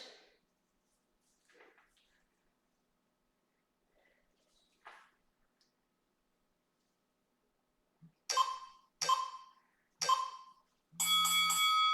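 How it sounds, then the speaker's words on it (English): A workout timer bell ends a round of a home kettlebell circuit. A few faint scattered sounds come first, then three sharp, close dings and a longer sustained ring, with no talking. "Excellent, there's the bell."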